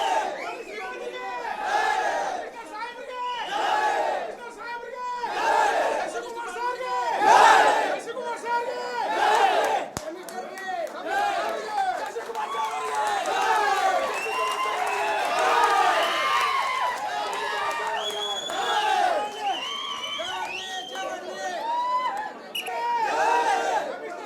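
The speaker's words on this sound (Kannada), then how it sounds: "ನೋಡಿ ಜೈಕಾರ ಹಾಕ್ತಾ ಇದ್ದಾರೆ ನೋಡಿ ಎಲ್ಲರೂ ಕೂಡ" A large crowd in Hubballi chants victory slogans in loud, overlapping rhythmic shouts that rise and fall, with excited voices and chatter mixed throughout.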